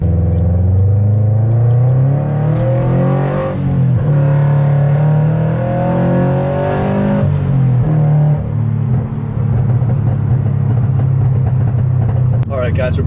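A Subaru BRZ drives on its way to a car show with a steady engine rumble and road noise inside the cabin, and a voice talks over it.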